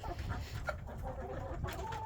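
A rooster clucks repeatedly in short, soft calls over a steady outdoor background hum, somewhat distant.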